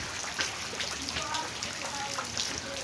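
Light rain falling steadily nearby, a dense patter of drops across a surface, with faint voice-like sounds mixed in.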